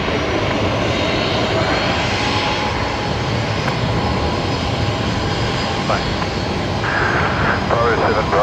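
An airliner rolls for takeoff at Brisbane Airport, a loud, continuous broadband engine roar that holds steady throughout, with voices talking underneath.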